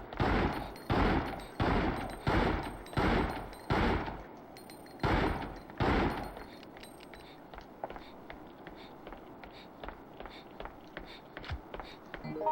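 Shotgun fire in Resident Evil Outbreak File 2: about eight loud, evenly spaced blasts in the first half, each with a short decaying tail, then quieter scattered clicks and thuds.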